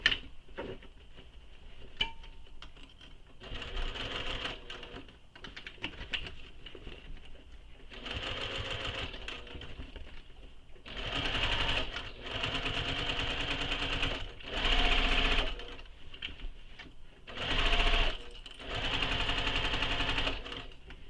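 Sewing machine stitching fabric seams for a soft toy, with short hesitant runs at first and then several longer, louder bursts of rapid stitching separated by brief pauses. No one speaks.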